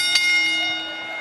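A bell rings out loudly in a wrestling arena before an AEW Forbidden Door event, one sharp strike with a shimmering metallic tone that rings on and slowly fades.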